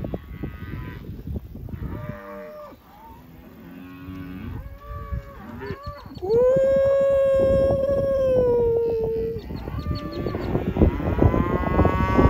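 Red Angus cattle mooing on a farm, several long lowing calls overlapping, one loud sustained moo near and others further off, with no talk.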